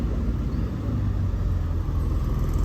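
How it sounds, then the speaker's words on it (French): A Porsche 992 Turbo S passes on a Paris street, its engine a loud, steady low rumble of road and exhaust noise lasting throughout, with no talk over it. "il y a cette 992 Turbo S qui fait un bruit, mais à réveiller les morts"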